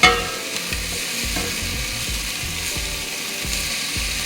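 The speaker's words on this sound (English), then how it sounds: "Keep stirring it." Onions are stirred as they fry over high heat in a pan for Thai noodle soup, giving a rhythmic scraping and clicking of the utensil against the pan over a continuous close sizzle, with no voices.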